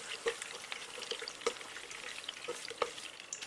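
Pork pieces being lifted one by one out of hot frying oil with the heat switched off, for a Chinese cooking certification dish of hongshao tofu: a steady soft sizzle and bubbling throughout, with occasional sharp clinks and scrapes of a utensil.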